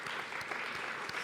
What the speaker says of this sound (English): Can we get one more round of applause for our really great presenters?